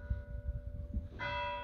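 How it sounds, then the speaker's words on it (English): A bell tolls at 7 p.m. After a low rumbling lead-in, a single clear strike rings out and its bright tone sustains to the end. "This bell goes at 7 p.m. and 7 a.m."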